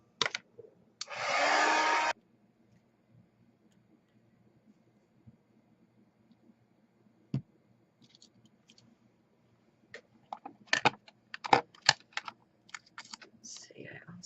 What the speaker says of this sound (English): And then I want to take some of this copper embossing powder and heat tool.